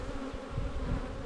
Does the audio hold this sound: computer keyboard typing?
no